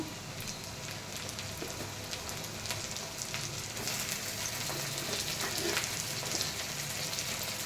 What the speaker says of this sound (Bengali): পেঁয়াজটাকে ভালো করে ভেজে নিয়ে তারপরে টমেটো দিয়ে দেবো।